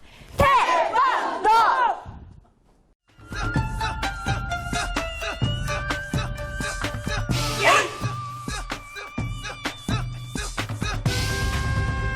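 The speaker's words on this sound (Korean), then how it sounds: "따뜻한 기합 소리가 가득한 현장." Elderly trainees in a silver taekwondo club in Jeongwan-eup, Gijang-gun, shout loud kihap cries together during training, with a burst of group shouts, a brief pause, then repeated sharp collective yells over ringing hall reverberation.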